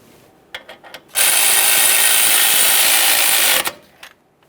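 A power tool runs in a single loud, steady burst of about two and a half seconds to snug a 10mm mounting bolt on a Ford F-150 flex hose, with a few clicks before and after.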